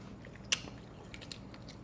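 A sharp crunchy bite into a crispy air-fried chicken wing up close, followed by quieter chewing crunches against a soft background hum.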